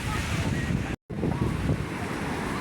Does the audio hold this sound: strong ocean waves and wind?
yes